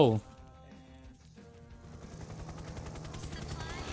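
Gunfire in the Thai shooter game XSHOT, a rapid stream of shots and bursts that builds over the last two seconds, rising under and after a loud voice at the start.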